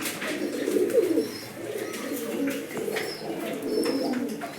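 Several pigeons at a pigeon farm coo in low, rolling bursts that overlap, fairly close, with faint higher chirps and background noise around them.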